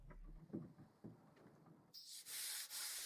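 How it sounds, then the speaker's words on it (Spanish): Sandpaper worked by hand over the wood veneer of a mid-century modern sideboard, starting with faint irregular scuffs, then turning into loud, sustained rasping strokes near the end. "Así que fui directamente a lijar"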